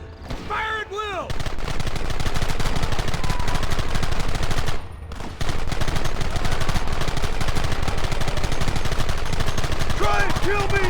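Rapid, loud gunfire from many weapons crackles through a shootout in the Western game Red Dead Redemption 2, a sustained volley with a brief lull midway, and a horse whinnies at the start and end.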